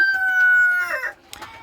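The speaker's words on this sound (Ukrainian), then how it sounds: "курочки нормально себе почувають" Chickens and a young naked-neck rooster in a winter coop, a sustained crow-like call followed by short clucks, close and clear with no talk.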